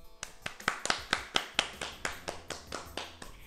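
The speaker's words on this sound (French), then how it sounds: "On l'applaudit, s'il te plaît, on l'applaudit." A quick run of about a dozen sharp hand claps, close and fairly loud, in a steady slightly uneven rhythm.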